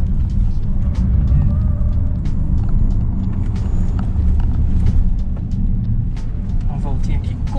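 A BYD Tan, a large seven-seat all-electric SUV on a test drive, gives a steady low road and tire rumble inside the cabin, continuous and moderately loud, with a voice talking over it.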